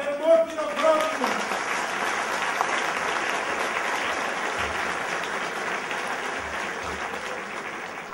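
A warm round of applause for students fills a hall at a ceremony honouring university entrants, a dense, sustained clapping that carries on evenly after a brief voice at the start.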